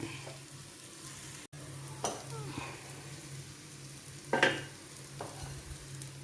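Soft, steady sizzle of chicken roast frying in a pan, with a few brief splashes and stirring scrapes as a little cooking water from a pressure cooker is poured in, fairly quiet and close.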